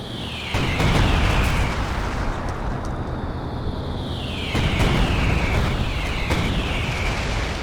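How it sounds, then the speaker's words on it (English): Heavy mortar barrage explosions in the video game Company of Heroes 2, a series of loud booming blasts with sharp bursts roughly every second over a constant rumbling battlefield roar, with no talking. "I think there's a heavy mortar barrage coming through as well."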